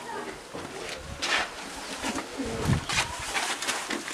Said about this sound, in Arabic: هاي الحميمة